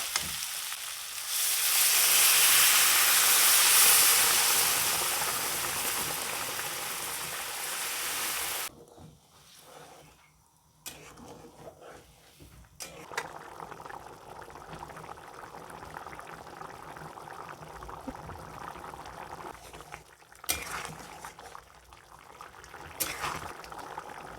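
Malabar spinach and prawn curry with ground cumin sizzles loudly in a pan at first, then drops to a softer bubbling simmer after water goes in, with scattered stirring clinks and no talking.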